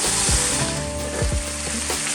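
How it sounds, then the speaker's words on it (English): Chopped collard greens fry in a pan after their water has cooked off, giving a steady loud sizzle with the scrape of stirring throughout. "So we are strictly frying these at this point."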